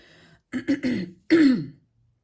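A hoarse woman clears her throat twice, close up: a short rough double rasp, a pause, then a longer, harder clearing.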